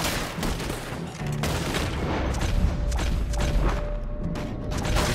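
Gunfire in the Red Dead Redemption 2 video game, a steady dense barrage of shots and booms filling the whole stretch, loud and continuous with layered cracks over a rumbling low end.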